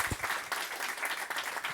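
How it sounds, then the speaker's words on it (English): An audience at a live event applauds, dense continuous clapping from a room full of people, steady and moderately loud throughout the short burst. "a round of applause for Will"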